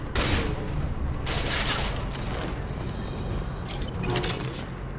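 Continuous firefight gunfire in the sci-fi shooter Mass Effect 2, a dense, loud stream of rapid shots and impacts with no pause, close and alone.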